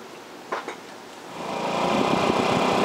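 A Honda Ruckus scooter with freshly replaced variator rollers pulls away on a test ride, its small engine buzzing up from quiet and building into a steady, rising drone that keeps growing louder.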